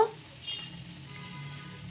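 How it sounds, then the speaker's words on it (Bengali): Finely chopped onion sizzles quietly in a pan as it is stirred, a soft continuous fry with faint scraping, alone and fairly low in level. "এই পেঁয়াজটা দিয়ে দিলাম এই পেঁয়াজটা একটু নেড়ে চেড়ে নেব"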